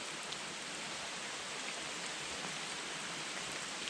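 Heavy rain pours onto a tent on a long-distance hiking trail, a dense, steady hiss of drops drumming on fabric, close and continuous throughout with no voices.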